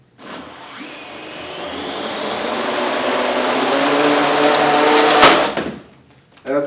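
Small quadcopter motors on an AR Drone fitted with a heavy Millennium Falcon shell run at full throttle, a loud sustained whirring buzz that builds steadily for several seconds, then cuts off abruptly near the end.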